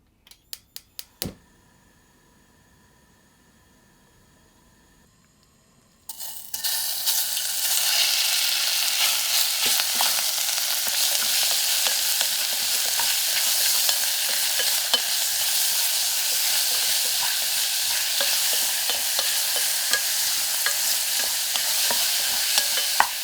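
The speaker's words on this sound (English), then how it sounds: "Stir fry the beef." Beef stir-fried in a pot with hot vegetable oil: a few sharp knocks, then a sudden loud, steady sizzle under a dense patter of spattering and stirring scrapes, continuing close and strong without pause.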